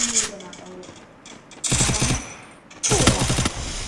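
Bursts of UMP submachine gun fire in the video game Free Fire: two loud, rapid volleys, each lasting under a second, with quieter game sounds before them.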